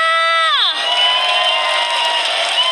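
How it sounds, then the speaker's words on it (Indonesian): A packed arena crowd at an MPL Season 11 esports match cheers loudly, with high shrieks and whoops swelling into a sustained roar. "mari kita minta tepuk tangannya untuk MPL Arena mana?"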